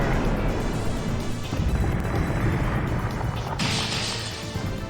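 The Aqua Shatter attack effect in the Digimon Digital Card Battle video game, a dense crashing, rumbling burst that rolls on for several seconds, loud and alone, with a brighter hissing layer toward the end.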